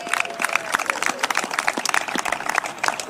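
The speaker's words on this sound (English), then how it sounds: "Give our young people a round of applause." Audience applause for a young football team at an Oakland gathering, quick scattered clapping from a modest crowd, close and lively, with a faint voice briefly underneath.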